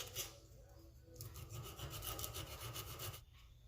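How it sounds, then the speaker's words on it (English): A wooden crankbait fishing lure being sanded flat along the belly, giving a steady close rasping rub in back-and-forth strokes, fairly quiet with no speech. "now just gonna sand it flat with the shape of the belly"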